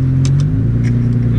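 A Nissan GT-R engine hums with a steady, loud low rumble during launch, its pitch dropping slightly partway through, with brief faint higher chirps overhead.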